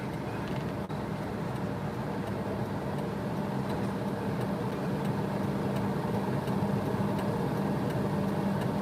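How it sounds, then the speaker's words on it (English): A small Japanese kei truck, a five-wheel mini farm truck with a little rear bed, idles steadily close by in a continuous low hum, with faint outdoor background noise and no talk. "This is my little K-truck."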